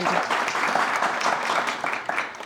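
An audience at a quiz show applauds a team's score, with steady, dense clapping that stays fairly loud and close all the way through and has no talk over it.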